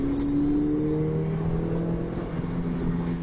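A 2012 Mini Coupe John Cooper Works accelerates through a gear change, its engine note steady and close inside the cabin, with the revs shifting partway through.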